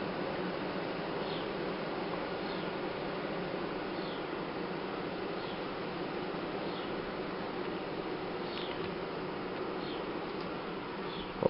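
A dense, steady buzzing of a bee swarm nesting on ceiling boards fills the whole stretch, close and continuous, with no voices.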